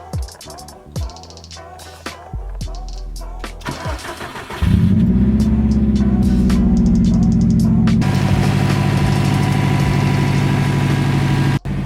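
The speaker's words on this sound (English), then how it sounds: "so car is on. It sounds healthy." A Subaru engine cranks with a few clanks, then catches and settles into a steady, loud idle that hums on close by, just after valve cover gasket replacement.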